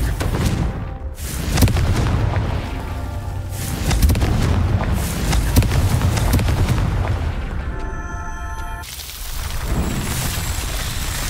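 Booming blasts from the Confringo explosion spell in Hogwarts Legacy, several loud, heavy detonations in quick succession with rumbling tails, ending in a fainter crackling burst.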